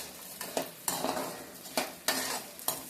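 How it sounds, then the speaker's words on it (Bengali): Edible gum (gond) puffing up while frying in ghee in a pan, with about six loud, rhythmic scraping stirs of a spatula against the metal over a light sizzle. "এবার এটা খইয়ের মতো দেখো কত মোটা মোটা হয়ে ভাজা হয়ে যাচ্ছে"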